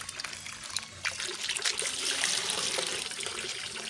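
Tap water trickles and splashes steadily at close range for a few seconds, with no voices over it.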